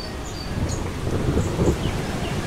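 Rain and rolling thunder from a thunderstorm in the game Eastshade, a steady wash of rainfall with low rumbles swelling near the middle, no talk.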